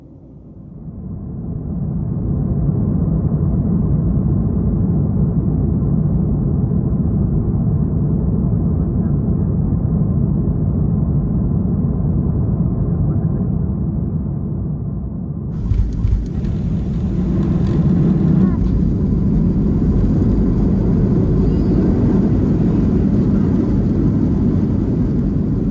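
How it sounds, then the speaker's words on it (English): Boeing 737-200 landing on runway 30 at Kugluktuk, Nunavut: steady, loud low engine roar fills the cabin throughout, shifting with a brief burst of broadband noise and rumble near touchdown before the roar continues. "here's the arrival into Kugluktuk, landing on runway 30 true."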